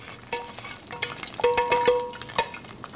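Garlic frying in a pan, cut in half and browning, with soft crackling and scattered stirring clinks and scrapes at close range; a few sharper utensil knocks stand out over a low steady sizzle, no talking.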